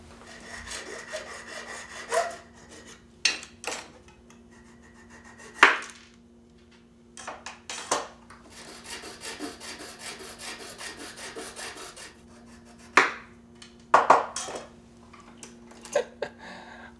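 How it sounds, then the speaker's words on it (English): A piece of perf board being cut down, with scattered short rasping, sawing strokes separated by pauses over a faint steady hum. "grab a piece of perf board to chop down"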